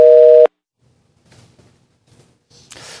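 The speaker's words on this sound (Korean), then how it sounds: "지금 전화 연결이 끊어진 상황인데요" Steady telephone busy tone sounds loudly for about half a second after a call drops during a live news interview, followed by near-silence with faint rustling and then a burst of broadband noise at the end.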